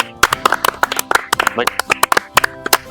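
A group of villagers clap for the arriving village head, with several sharp, uneven claps ringing out close by over steady talk and chatter.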